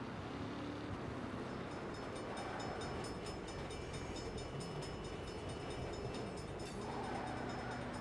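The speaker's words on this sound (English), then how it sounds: "Bad time for a train." A train passes in the video game Saints Row, a dense continuous rumble and rattle of rail cars filling the whole stretch at steady loudness, with no voices over it.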